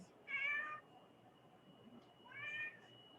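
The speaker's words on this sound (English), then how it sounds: "My cat wanted to say hi." A pet cat meows twice during an online crochet class, two clear mid-pitched calls about two seconds apart over a quiet room background.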